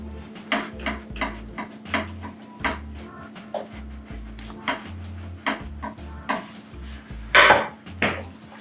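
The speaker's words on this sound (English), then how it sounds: "We're going to add in our Sharp Cheddar. Put all that in. Oops. We're going to mix that up." A utensil clanks and scrapes in a pot while sharp cheddar is stirred into mac and cheese, with a series of distinct, fairly loud knocks against the metal and no talking.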